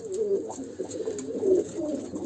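Pigeons coo softly and repeatedly, several low rolling calls overlapping close by in an enclosed loft with no talk.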